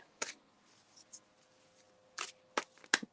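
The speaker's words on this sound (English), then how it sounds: "I'm shuffling for Leave It to Beaver." Oracle cards being shuffled close by in a few short, crisp riffling bursts separated by quiet gaps, with faint small clicks between them.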